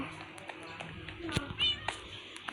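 A Minecraft cat meows a few times in short game-sound bursts, with a voice talking over and between the calls.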